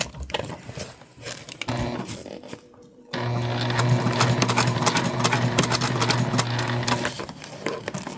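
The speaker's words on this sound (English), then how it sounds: "we're stitching at about a 1/4 inch seam allowance here" A sewing machine stitches a quarter-inch seam on a handmade bag, running in short bursts then a steady sustained whirring hum with rapid needle clatter after a brief pause, close and fairly loud.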